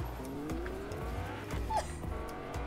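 A car driving in Fortnite's Tilted Taxi mode, engine revving with rhythmic gear shifts and a brief high squeal of skidding tires, fairly loud and continuous.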